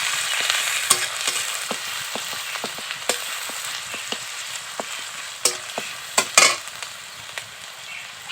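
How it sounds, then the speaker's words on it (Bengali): Onion paste fries in hot oil for a Bengali chicken Mughlai paratha, a steady crackling sizzle broken by sharp clicks and scrapes of a spatula stirring at an irregular rhythm, close and fairly loud with no talking. "পেঁয়াজটাকে একটু ভাজা ভাজা করে নেব"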